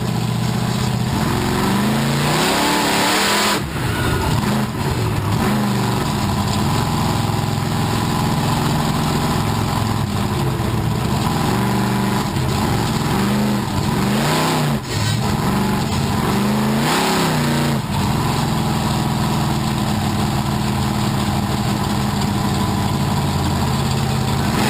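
A monster truck engine at a monster truck show rumbles loudly and continuously close by, with deep idling and repeated surges of revving throughout.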